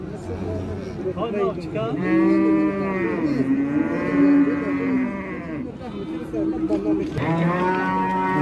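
Cattle, including fattened oxen and bulls, call at a Chilikul livestock market in long, loud, drawn-out moos. Two calls follow each other closely over a busy crowd background.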